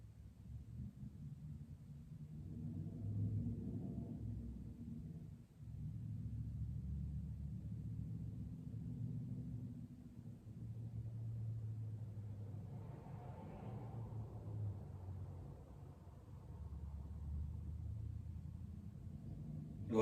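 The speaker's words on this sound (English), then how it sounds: "A lot of noise outside a truck." Truck passing outside a house at night, a low muffled rumble heard through walls that swells and fades in waves, steady and faint in a quiet room.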